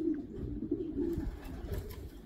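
Racing pigeons coo in a loft, low repeated coos from several birds close by, with faint rustling and bits of background noise in the later part.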